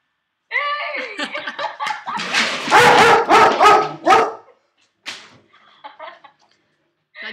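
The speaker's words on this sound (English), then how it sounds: "Oh, yeah, I hear your dog." An excited dog barks in quick, loud bursts close by, a brief pause and then a few more yelps, with laughter mixed in among the barking.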